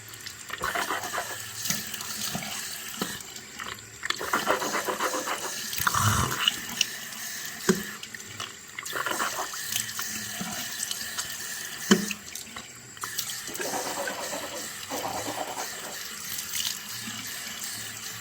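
Tap water runs steadily into a bathroom sink while a tongue scraper is rinsed, with continuous close splashing and flow that shifts as hands and the scraper move through the stream.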